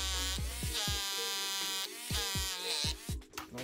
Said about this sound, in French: je prends ce petit perfo Et je fais mes trous pour les chevilles à frapper